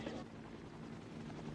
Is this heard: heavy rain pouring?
no